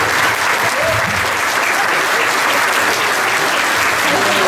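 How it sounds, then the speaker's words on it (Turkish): Loud, dense applause from an audience for an orchestra at a birthday surprise event, a continuous roar of clapping that holds steady throughout, with faint crowd murmur beneath. "Ve orkestraya güzel bir alkış istiyorum."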